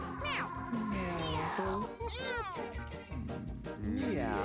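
Meows from the meow button in Mewgenics, several short, close cat calls in quick succession, rising and falling, over a talking voice.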